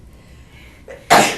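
A single sharp sneeze bursts out in a large interview room after a quiet pause. A brief breathy intake comes first, then one loud, abrupt burst at close range.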